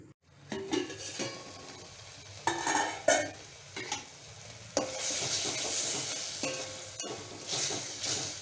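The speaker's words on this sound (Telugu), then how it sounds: "తోటకూరలో పచ్చదనం పోయే వరకు కుక్ చేసుకోవాలి." Amaranth leaves cooking in a pan for a buttermilk curry, giving a steady sizzle with intermittent stirring and scraping of a utensil against the pan, close and moderately loud with no voices.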